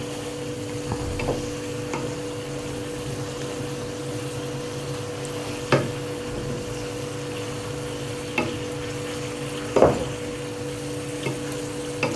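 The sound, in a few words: liver, kidneys and hearts frying and stirred in a pan with garlic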